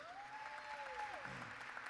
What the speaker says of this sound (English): Let's give a warm round of applause for Tim Draper.